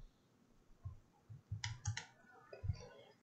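Computer mouse clicks in design software while modelling a spinning top, a few quick light clicks in small clusters, close and quiet against a near-silent background.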